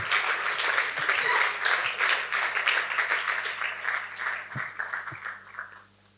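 An audience at the final evening of an eloquence contest applauds as a coach is called up, a broad, sustained clapping that slowly thins and dies away at the end.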